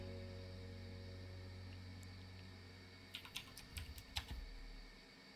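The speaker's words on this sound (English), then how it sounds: "I can hear Jeff quickly typing to find out first." Fast bursts of computer keyboard typing, a quick cluster of sharp clicks over a steady low hum, close and fairly quiet, with no talking.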